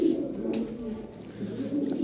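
Pigeons, including a female, give soft, low, rolling coos close by, a continuous murmuring burble over a couple of seconds.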